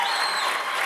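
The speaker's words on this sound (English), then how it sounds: "a very, very strong applause for Aishwari" Strong audience applause at an ISSF World Cup shooting range in Bhopal as a 50m rifle three positions finalist is introduced, a brief burst of dense, bright clapping with a faint tonal hum riding over it.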